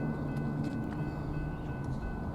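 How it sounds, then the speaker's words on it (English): A train rolls past a railroad crossing on the C&C line near Workman Road during a TVRM Summerville doubleheader run, a steady, loud rumble with low droning tones and no breaks. "As the train rolls by"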